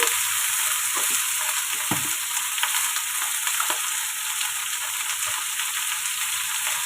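Vegetables fry in a pan after salt is added, giving a loud, continuous hiss and sizzle with occasional soft knocks of stirring.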